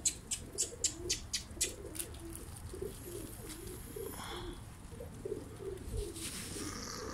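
A black-tailed pigeon coos near the late-afternoon time of prayer, a low, rolling coo repeated through the stretch. A quick series of sharp clicking taps opens it, with soft background noise and no speech.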